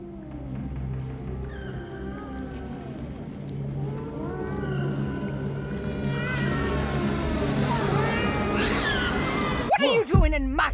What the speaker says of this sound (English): That's an interesting cat-like sound there.